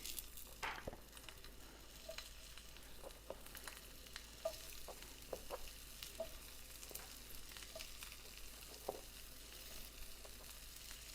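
Potatoes fry in a stainless steel skillet with a faint, even sizzle and scattered small crackles and pops throughout.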